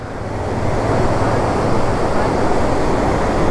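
River water rushes loudly and continuously at the confluence of the Alaknanda and Pindar rivers at Karnaprayag, a broad, steady roar close to the listener with no voices.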